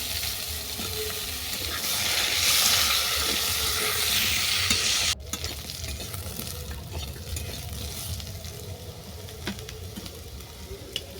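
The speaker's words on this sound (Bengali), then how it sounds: "আলুটাকে বাদামি করে ভেজে নেওয়ার পর এর সঙ্গে তুলে দিচ্ছি কেটে রাখা বেগুন।" Potato and eggplant frying together in a pan while being stirred: a loud, close sizzle with scraping stirs that drops to a quieter, steadier crackle partway through.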